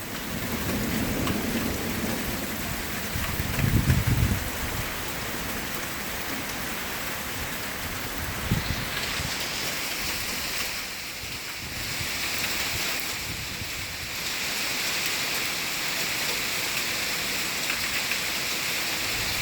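Heavy thunderstorm rain pours steadily throughout, with a loud rumble of thunder early on and a sharper crack near the middle, all close and continuous with no talking.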